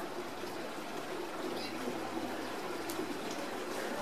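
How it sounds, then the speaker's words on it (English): Water from an irrigation canal rushes and trickles steadily into a garden plot in Leh, Ladakh, a continuous low splashing flow heard close and fairly quiet. "Water's running really fast now, though."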